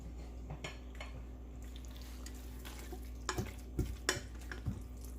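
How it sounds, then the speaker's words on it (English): Cauliflower pieces clatter and scrape into a greased 9 by 13 baking dish in a home kitchen, with a few close knocks and stirring sounds over a steady low hum. "Now, we're gonna put this cauliflower in a greased 9 by 13 baking dish"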